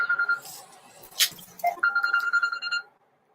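Phone ringtone from an incoming scam call, a repeating electronic melody that plays near and clear for about a second and a half, with a brief sharp burst and some background noise before it.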